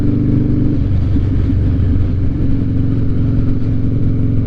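A Harley-Davidson Night Train motorcycle rides along a road, its engine giving a loud, steady low rumble throughout, close and with no talking.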